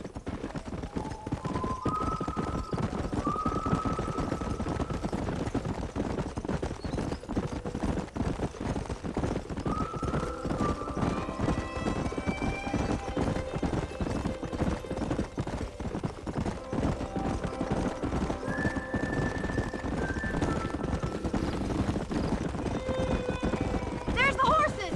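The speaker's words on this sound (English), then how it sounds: "There's the horses!" Hooves clip-clop steadily across a busy outdoor scene in the video game Red Dead Redemption, with a horse whinnying now and then and people talking over the galloping.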